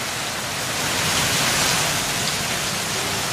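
Heavy rain pours down in a dense, steady hiss that holds at an even level throughout, with no voices heard.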